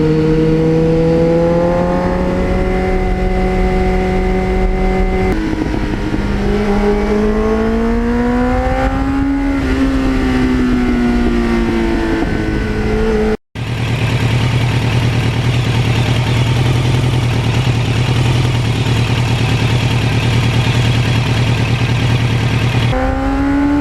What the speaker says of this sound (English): And then Luciano gave me this Muzzy muffler.